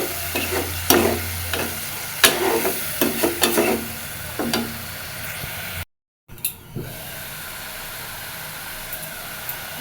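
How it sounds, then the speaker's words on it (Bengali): A masala being stirred and sautéed in a pan, with repeated close scraping strokes over a steady sizzle; after a brief dropout the frying sizzle continues alone without stirring. "হালকা পরিমাণে একটু জল দিব যাতে মশলাটা খুব ভালো মতো কষানো হয়ে যায়"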